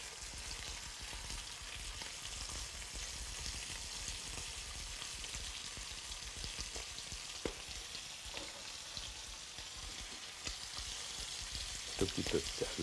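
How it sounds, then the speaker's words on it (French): Chicken livers fry in hot, sizzling butter in a pan, a dense, steady crackling hiss that continues throughout, close and even, with a few faint clicks near the end. "Et quand le beurre frétille, voilà, vous mettez les foies"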